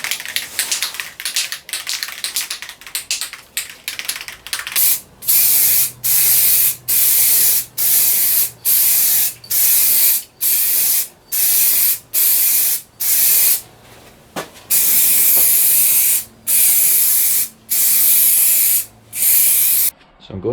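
Spray can coating a masked Suzuki GSX650F motorcycle fairing in a home workshop, a rapid run of short hissing bursts followed by longer regular spray blasts with brief pauses, close and loud.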